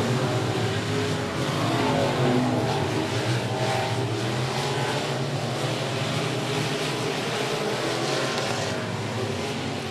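Short track stock race cars roar around 105 Speedway in a Short Track Super Series event, a dense, continuous pack of engines droning and revving loudly with no break.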